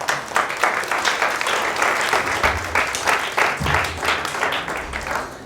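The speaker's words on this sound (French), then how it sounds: "On peut l'applaudir." An audience at a live event applauds to welcome a rapper, a continuous wash of clapping from many hands that holds steady throughout.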